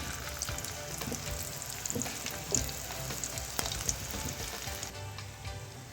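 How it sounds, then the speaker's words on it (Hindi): Chickpeas fry in oil over a medium flame, giving a dense, continuous, close-up sizzle with popping crackles throughout. "यहाँ पर काफ़ी सारे चने मैंने फ्राई होने के लिए डाल दिए और इसको मीडियम फ्लेम पर ही हमने फ्राई करना है"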